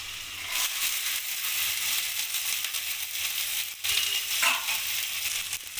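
Chopped garlic and six sliced green chillies frying in hot oil for chilli soybean, a steady broadband sizzle with crackles and spitting throughout, close and fairly loud with no talk.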